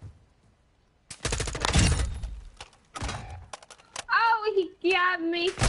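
Bursts of automatic gunfire in the video game Call of Duty Modern Warfare 2, a loud broadband volley followed by further shots and impacts, with raised voices talking over the last seconds.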